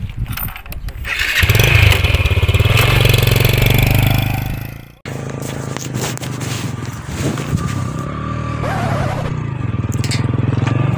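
A motorcycle engine runs loudly and steadily, then after an abrupt cut about halfway through it continues at a lower, rougher level with faint background activity.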